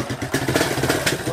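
A street-legal dirt bike engine runs up close, a brief, loud, steady pulsing putter like a motorcycle idling or lightly revving.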